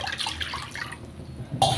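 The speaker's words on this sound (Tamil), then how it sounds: "இந்த டம்ளரில் வந்துட்டு 3 டம்ளரு தண்ணி ஊற்றிக்கிடலாம்." Water pours and splashes into a cooking pot for a vegetable noodle dish, a close, gurgling stream of about a second that fades, followed by a brief clink or splash at the end, with no speech.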